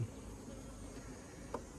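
Honey bees hum at an opened hive, a faint steady buzz continuing without pause over the short stretch.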